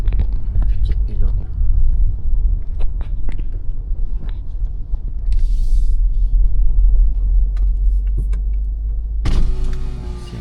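A taxi drives through Vientiane, Laos, with a steady low road rumble inside the cabin, scattered clicks and a burst of louder motor whine near the end, and people talking over it.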